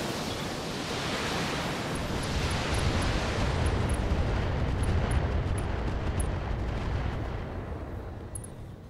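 Long-range missile salvos launched in the BattleTech mech combat game, a sustained roaring rumble of rocket fire and explosions that swells and then slowly fades, loud and continuous.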